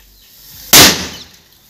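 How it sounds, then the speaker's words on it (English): Sodium metal thrown into a water tank explodes in a single sharp, loud bang after a quiet moment, followed by a brief hissing, splashing decay. "That was a Coulomb explosion mixed with hydrogen explosion"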